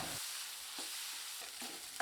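Tomatoes and chillies sizzle softly in a hot pan while being stirred, with a few brief scraping movements.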